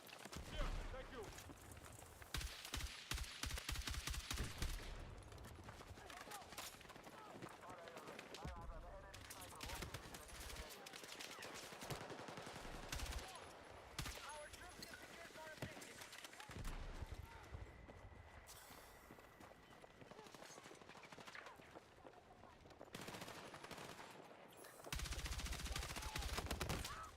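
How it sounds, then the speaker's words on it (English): Enemy machine gun fire in a video game, heard as repeated rapid bursts of shots with clattering, clip-clop-like impacts, loud and sustained across the scene under a mix of game sounds and a voice. "Contact! Enemy machine gun!"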